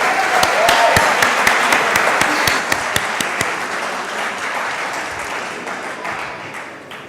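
Loud, sustained applause from a large audience at a gathering honouring leaders and achievers, dense clapping with sharp individual claps on top, steady for several seconds then gradually easing off.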